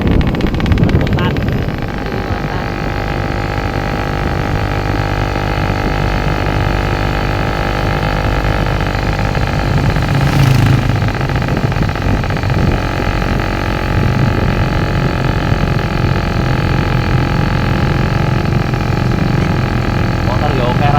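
A motorcycle engine runs steadily throughout, a continuous low droning hum close by that holds level with little change in pitch. Voices talk faintly over it at times.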